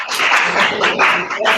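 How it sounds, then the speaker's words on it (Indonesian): An audience claps together after a group presentation in a classroom session, a dense burst of applause that rises and falls, with voices mixed in. "Bagus sekali. Tepuk tangan."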